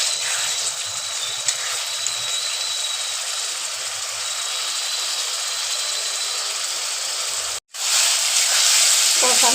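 Pointed gourd masala sizzles in a pan with a continuous close hiss of frying, broken by a sudden short gap before the sizzle resumes.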